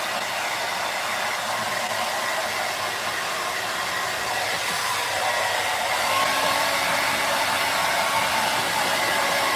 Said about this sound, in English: this is the very same hair dryer I use on my hair